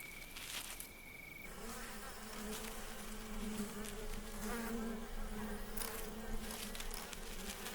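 Dense, droning buzz of many honeybees inside a hive, steady and close, with wing hum swelling and fading slightly.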